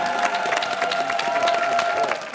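Applause and some cheering from a TV variety show studio audience, a short, fairly loud burst of clapping lasting a couple of seconds.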